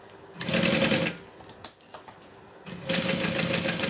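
A sewing machine stitches a backpack from the lining side in two close, rapid mechanical bursts separated by a pause with small clicks and handling noises.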